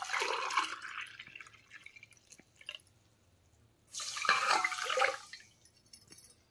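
Water pours from a glass into a vessel for sugar syrup in two splashing, gurgling bursts close by, with a quiet pause between them.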